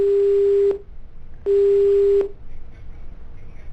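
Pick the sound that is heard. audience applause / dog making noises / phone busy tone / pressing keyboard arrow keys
phone busy tone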